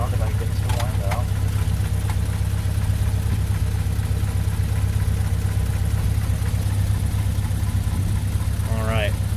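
A classic car with a 6-volt electrical system idles steadily, its loud, even engine rumble close and continuous, with brief bursts of voice-like chatter breaking in near the start and end.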